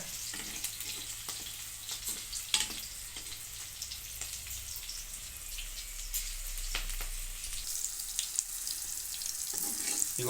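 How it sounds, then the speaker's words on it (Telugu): Green chillies fry in a pan for brinjal roti pachadi, a quiet, even sizzle with scattered small crackles and pops throughout. "పచ్చిమిరకాయలు బాగా దోరగా ఎగనివ్వాలండి."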